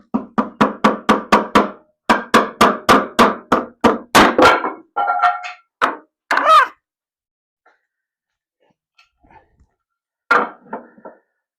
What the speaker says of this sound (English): we'll know where to hammer the rest of these